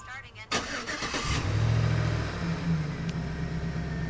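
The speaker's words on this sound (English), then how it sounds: "We can start truck." A truck engine is started remotely; a synthetic voice speaks, then the starter cranks briefly and the engine catches and settles into a steady, close idle.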